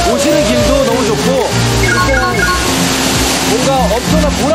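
Powerful twin waterfall on Duta mountain roars as a dense, loud, constant rush of water, with people talking and music playing over it throughout.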